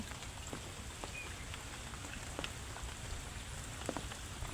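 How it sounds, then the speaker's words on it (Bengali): Light rain falling on a mobile phone outdoors beside a wetland, a faint continuous patter with scattered small drop taps over low background noise. "আমার মোবাইলের উপরে গাইস বৃষ্টি পড়তেছে"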